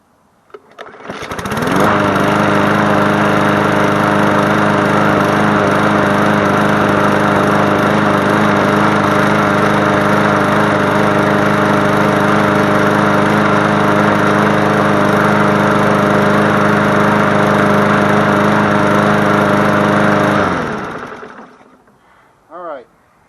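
An MTD Yard Machines push mower, earlier suffering no compression and a rattle, starts and runs loud and close, its engine droning steadily for about twenty seconds before cutting off.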